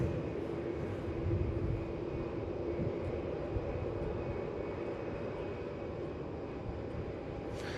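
Airliner engine rumbling steadily at Melbourne Airport, a broad low roar with a faint high tone on top, heard from some distance without pause for several seconds.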